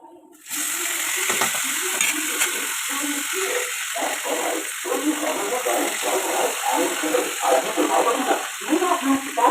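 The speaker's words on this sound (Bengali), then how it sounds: "তো এরপরে আমরা এর মধ্যে ম্যারিনেশন করা চিকেনটা দিয়ে দেবো।" Marinated chicken for biryani dropped into a hot pan and frying with steady crackling and sizzling, close and moderately loud, with stirring and scraping against the pan throughout.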